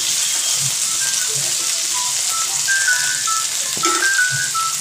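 Potatoes frying in oil in a home kitchen, a steady bright sizzle that fills the moment evenly, with faint clinks and small stirring sounds underneath.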